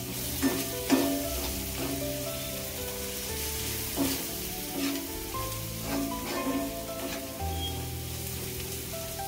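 Masala roasting in a pan over a low gas flame, a steady soft sizzle and crackle with occasional stirring scrapes, close and continuous with no talk.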